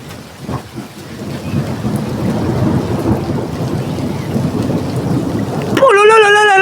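Steady heavy rain pours down during a violent thunderstorm, with rumbling thunder rolling underneath and a sharp crack near the start, loud and close; a rising-and-falling siren-like whine cuts in at the very end.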